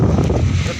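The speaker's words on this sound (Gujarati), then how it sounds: "ખાંભા તાલુકાનો મોટા સમઢિયાળા ગામમાં આટલો પવન ને બધું આવી રહ્યું છે" Strong wind buffeting the microphone in Mota Samadhiyala village, Khambha taluka, as a storm approaches, a loud continuous low rumble with no break.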